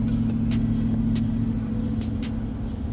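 Chevrolet Tahoe engine running with no exhaust installed, a loud, steady low drone of an uncorked engine heard from inside the cabin while riding, with faint ticking clicks over it.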